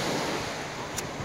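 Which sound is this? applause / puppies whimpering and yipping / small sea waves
small sea waves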